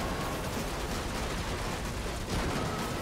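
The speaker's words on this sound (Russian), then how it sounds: "Мне очень нравится, как машины здесь просто переворачиваются, что-то еще делают, взрывается." Dense, continuous roar of explosions and crashing cars in an Unreal Engine 5 demo, with debris and shattering glass from a destruction system, loud and sustained with no pauses and no talking.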